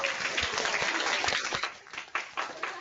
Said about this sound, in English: let's unmute your mics for just a moment and let's give Hall of Famer Warren Moon a round of applause